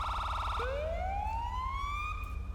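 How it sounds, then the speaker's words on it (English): A custom siren on an LAPD 2020 Ford Explorer police car in GTA5 switches from a rapid pulsing yelp to a rising wail, loud and close over a low engine hum. "This actually makes some custom sirens for that."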